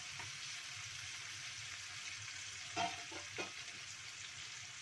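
Sliced chili tipped into a hot pan with anchovies and petai, giving a steady bright sizzle and frying hiss throughout, with a couple of brief stirring scrapes partway through, close and moderately quiet, no voices.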